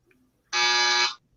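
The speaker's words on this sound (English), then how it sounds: "that was the sound of somebody's buzzer" A single loud, steady electronic buzzer blares for about half a second during a Jeopardy-style quiz game, standing alone with no talk over it.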